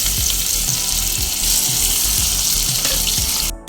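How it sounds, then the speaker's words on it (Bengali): Pieces of hilsa fish, mostly the head, fry in hot oil with a steady, dense hiss and crackle that runs loud and unbroken throughout, cutting off abruptly at the very end. "এই গরম তেলের মধ্যে ইলিশ মাছের টাকাটাও দিয়ে দিলাম আর মাথা বেশিটা দিয়ে দিলাম"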